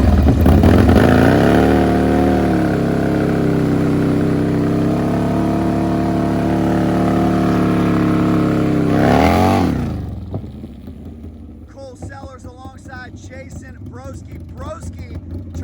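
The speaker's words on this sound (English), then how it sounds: "Broski on the Ward Performance Harley Davidson." A Ward Performance Harley-Davidson drag bike at an Extreme Outlaw final in Fayetteville roars at full throttle, its loud engine note climbing through gears for about ten seconds before cutting off, followed by an announcer talking over crowd noise.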